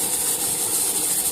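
A pot boiling on a homemade used-oil stove at night, heard as a steady hissing, rushing roar with a bright continuous hiss and low rumble, close and unbroken, no voices.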